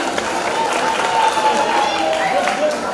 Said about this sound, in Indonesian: Ayo tepuk tangannya dong biar temennya semangat nih yang maju nih